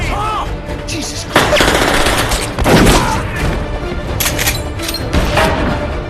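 An action film shootout in which gunfire bursts repeatedly, with rapid volleys and heavy impacts mixed into a loud, busy soundtrack throughout.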